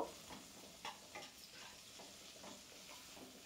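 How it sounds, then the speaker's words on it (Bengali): Chopped onions fry in oil in a pan for mung dal with lau shak greens and aubergine, a steady soft sizzle broken by a few light stirring scrapes, close and quiet with no voices. "পেঁয়াজটা এদিকে ভাজা হতে থাক"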